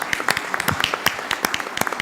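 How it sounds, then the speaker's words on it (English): A round of applause breaks out at a community service district board meeting, a dense patter of many hands clapping at moderate loudness, sustained for a couple of seconds. "Let's give everybody a round of the Boy Scouts round of applause."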